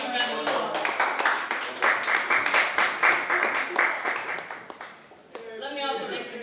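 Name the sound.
audience round of applause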